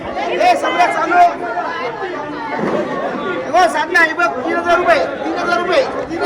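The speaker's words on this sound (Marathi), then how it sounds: "गर्दी बघा किती झाली. 10 मिनिटात एवढी गर्दी वाढली." A crowd chatters at a wholesale fish auction on Devgad beach, with many voices overlapping into a loud, busy babble close by that continues throughout.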